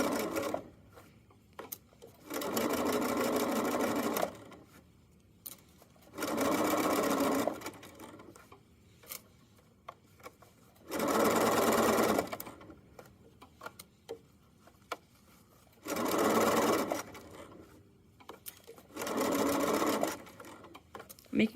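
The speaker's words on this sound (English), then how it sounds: "Making sure to not sew over any pins because that can break your needle and jam your machine." A sewing machine stitches the back panel of a fanny pack in five steady, loud bursts of rapid mechanical whirring, each about two seconds long, separated by short quiet pauses with faint handling noise.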